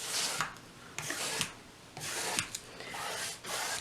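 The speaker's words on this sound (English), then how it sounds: "I'm moving back and forth just to vary the brush stroke a little." Soft rhythmic swishes of a paintbrush stroking back and forth across an abstract painting, several close, even strokes with brief pauses between, no voices.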